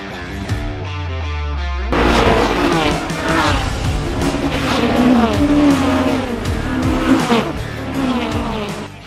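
A pack of BMW E30 M3 race cars roars off together at a race start, engines revving hard and rising in pitch as they accelerate, loud and close, with a commentator's voice underneath.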